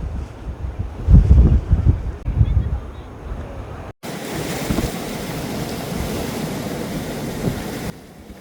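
Sea waves and buffeting wind around a lighthouse island, with heavy wind rumble on the microphone at first, then a steady rushing surf after a brief cut.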